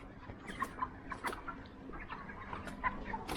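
Several poultry chickens clucking softly on a farm, short scattered clucks and calls at a moderate distance over a steady low background hum.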